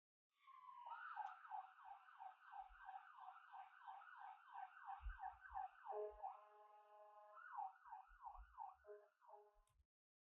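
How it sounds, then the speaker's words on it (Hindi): An ambulance siren sound effect plays alone, with a rapid warbling yelp that cycles steadily for several seconds, then shifts into a slower two-tone pattern before stopping, with faint low thumps underneath. "अब यहाँ पे मैं एक एम्बुलेंस की साउंड इफेक्ट ऐड कर रहा हूँ"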